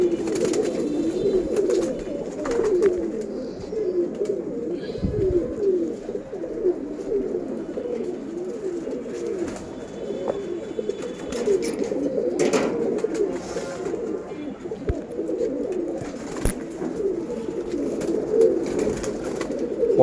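Pigeons on a sunny rooftop coo continuously in soft, overlapping low burbling calls, a steady flock murmur close by with a few faint clicks and taps and no talking.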